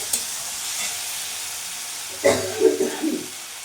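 Ginger-garlic-chili paste and finely chopped tomato frying in a pan for a katla fish curry, a low steady sizzle rising into a few louder bursts and stirring scrapes near the end.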